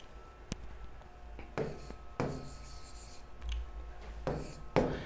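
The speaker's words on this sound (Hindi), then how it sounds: "यहां लिख देते हैं," A pen scratches across paper or a board in short separate strokes, close and quiet, with soft pauses between bursts over a faint background hum.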